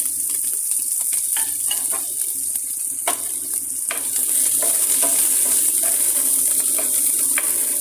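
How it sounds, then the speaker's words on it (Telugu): Onions frying in a pan to a reddish brown, a steady loud sizzle with a constant hiss and a low hum, while a spatula scrapes and clicks irregularly through it. "ఆనియన్స్ని మనం కొంచెం ఎర్రగా వేయించుకోవాలి"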